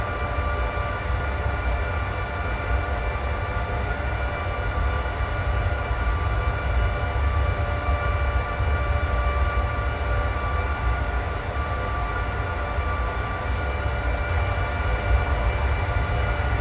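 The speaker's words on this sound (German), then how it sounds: "schön, wie sich unser Zug hier, ja, auf dem Weg Richtung Bitterfeld es sich begibt" S-Bahn train running at speed on the Leipzig to Bitterfeld line in the video game Train Simulator 2020: a continuous, steady rumble and whine with constant loudness throughout, no voices.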